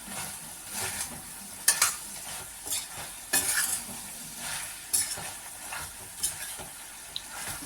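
Pallipalayam chicken, sprinkled with coriander and coconut, being stirred in a hot pan with steady frying sizzle and repeated scraping clinks of a spoon against the metal, each stroke sharp and close.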